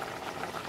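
Spiced buttermilk curry (moru curry) bubbling at a steady boil in a pot, a soft continuous seething hiss with faint bubble pops, close and quiet.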